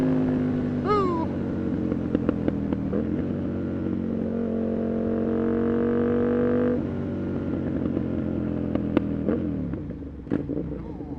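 An Aprilia RSV 1000 R Factory motorcycle engine idles steadily, stuck in an unhappy false neutral, with a steady rumble and a few brief rising whines and clattering ticks close by.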